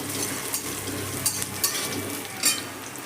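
A spatula stirs cheese sauce in a pan over sizzling heat, giving a soft frying hiss under irregular scrapes and light clinks of utensil against the pan.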